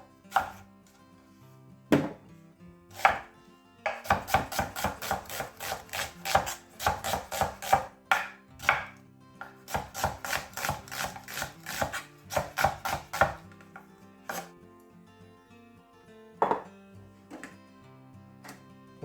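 Knife slicing through an onion on a cutting board while making cream of asparagus soup: a few isolated cuts, then long runs of quick, evenly spaced chops, close and crisp, with no talking.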